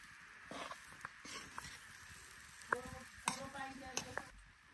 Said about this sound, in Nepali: आज मिठो हुन्छ कोदोको पिठो भुट्दै हुनुहुन्छ बजैले